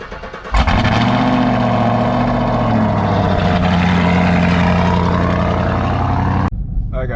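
A 550 hp Camaro engine cold starting, firing up abruptly into a loud, close, steady high idle that drones evenly for several seconds before cutting off sharply.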